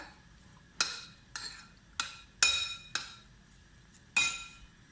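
A spoon knocks and scrapes against a bowl as uthappam batter toppings of onion, tomato and grated coconut are mixed, six sharp clinks spaced unevenly, close and fairly quiet.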